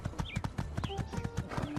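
Horse hooves clip-clop quickly and steadily in My Time at Sandrock, an even trotting rhythm up close with faint game chimes and tones in the background.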